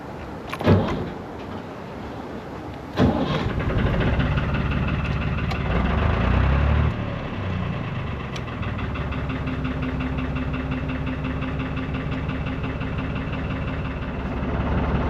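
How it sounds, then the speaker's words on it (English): A narrowboat's low engine idles steadily throughout, with a couple of sharp knocks or clunks early on and a rougher rumble partway through. "I'm going to move the boat up just 100 yards"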